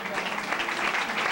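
A studio audience applauds, a dense steady patter of clapping filling the short stretch at moderate loudness, with speech likely mixed in.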